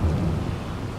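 Thunderstorm in Farming Simulator 22, a loud deep rumble of thunder over steady rain, close and continuous with no voices.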